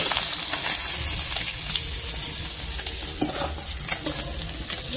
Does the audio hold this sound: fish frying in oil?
yes